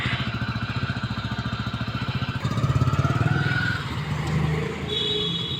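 Tractor engine running on a farm, a steady rhythmic chugging idle that rises slightly partway through, loud and close with no talking.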